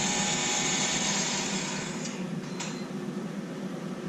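Steady broadband engine drone from an LS-swapped Honda Civic idling at 2300 rpm, with a constant hiss and whine, unchanging throughout, close and continuous with no voices.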